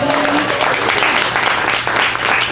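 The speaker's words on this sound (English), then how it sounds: "Clap it up for that." Audience at an entertainment talk event gives close, loud applause, a dense and continuous wash of clapping with a brief voice audible at the start.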